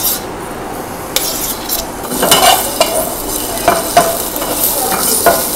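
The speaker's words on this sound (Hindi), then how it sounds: "अब इसके अंदर वो वाला जो लहसुन अदरक हमने चॉप किया था हम वो डाल देंगे" Chopped garlic and ginger tipped into a hot pan, sizzling steadily with a few stirring scrapes and clinks of a spoon against the pan, close and alone.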